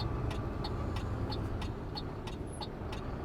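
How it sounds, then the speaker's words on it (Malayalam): A road vehicle's engine hums steadily at moderate distance, quiet and even, with a regular ticking pulse running through it. "വണ്ടി വരുന്നുണ്ടേ"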